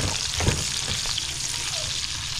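Beef steak sizzles steadily as it is sautéed in a hot pan for a breakfast dish, with a loud, continuous frying hiss and a few soft stirring scrapes.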